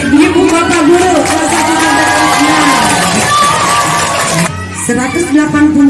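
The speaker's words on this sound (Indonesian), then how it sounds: "Tepuk tangan buat ibu bapak guru." Students and parents at a school's year-end competition event cheering and shouting for their teachers, a loud mix of whoops, yells and crowd noise, with a short dip before the noise rises again.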